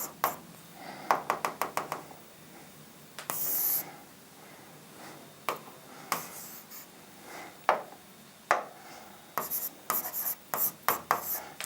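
A pen scratches out a viscosity formula by hand in a physics practical, quick bursts of short tapping and scraping strokes with brief pauses between them, close and fairly quiet, with no talk.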